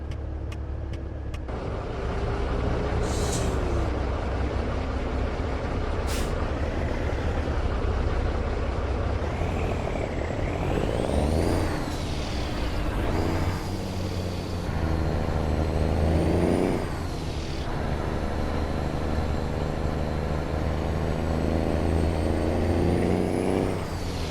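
Semi truck in American Truck Simulator driving along a road, a continuous low diesel engine drone with gear changes and rising revs, an air brake hiss early on, no talk.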